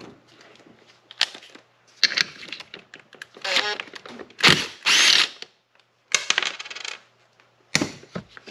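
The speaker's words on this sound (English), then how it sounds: "when you press this button, you're supposed to hear this ratcheting action where the internal spool is turning" An EGO line trimmer's Power Load spool mechanism ratchets in a string of quick mechanical clicks and clatters, close and fairly loud, separated by short pauses with no talking.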